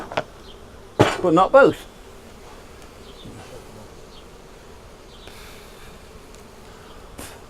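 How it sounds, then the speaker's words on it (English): Honeybees buzz steadily at a low level around an open hive during a July inspection, with a person briefly speaking close by and a few sharp taps and knocks from handling the frames. "I want to send as many bees down as I can."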